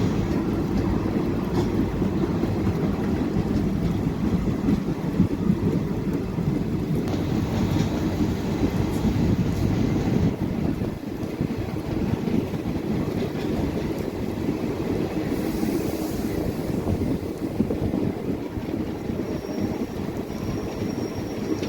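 The Tapovan Express runs through heavy monsoon rain, a steady rumble of wheels blended with a constant wash of rain and wind noise, heard from on board with no voices.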